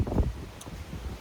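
Low, rumbling gusts of wind buffet the microphone in a spring garden, strongest at the start and then easing into a steadier muffled roar.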